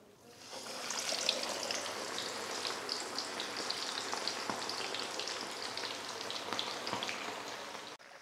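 Chicken deep frying in hot cooking oil over a medium flame, a steady loud sizzle with crackling pops that rises as the pieces go in and holds constant, with no voices.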